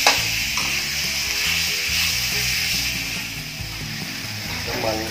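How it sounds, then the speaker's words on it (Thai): Pork stir-frying in a pan for a Thai shrimp-paste pork dish, a steady close sizzle with scraping stirs throughout, while soft background music plays beneath. "เติมหมูลงไปแล้วผัด"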